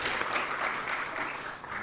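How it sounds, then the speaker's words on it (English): Steady applause from a conference audience after a panel session on entrepreneurship development policy, dense and even clapping throughout, moderately loud with no voices on top. "another round of applause for their perspectives today"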